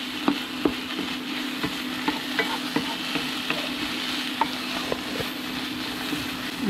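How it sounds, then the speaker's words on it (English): Food sizzles in a frying pan on a Lidl Silver Crest double induction hob set up under a camping awning, with a spatula scraping and tapping in a steady stirring rhythm, close and alone. "keep the frying pan on the induction, keep it flat, draw the heat, and keep stirring with it"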